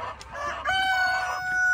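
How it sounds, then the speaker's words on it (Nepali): A local rooster on a Nepali poultry farm of about a thousand chickens crows once, near and clear, over faint clucking and background farm noise. "यहाँ 1000 कुखुरा छ"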